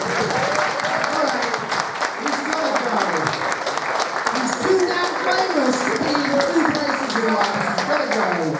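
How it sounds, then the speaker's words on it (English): A crowd claps steadily for several seconds, with voices talking and calling out over the sustained applause. "Ladies and gentlemen, round of applause."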